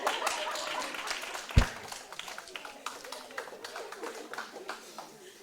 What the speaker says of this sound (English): Please give Dominic a round of applause for his presentation.